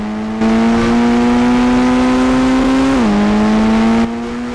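Car engine in the mobile driving game Indian Bike Driving 3D revving steadily at a high pitch, climbing slowly, dipping briefly after a gear shift, then holding loud and close, with no talk over it.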